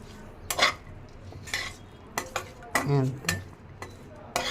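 Raw papaya curry being stirred after a spoonful of chili powder goes in, with a spoon scraping and clinking against the pan in several short bursts, alongside a faint sizzle and a brief spoken word.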